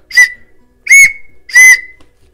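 Three short, bright blasts from a Khludnevo clay whistle (kurzhupka) in the Russian ceramic folk style, each a clear high tone sliding slightly and trailing off, evenly spaced and close by, with no talk.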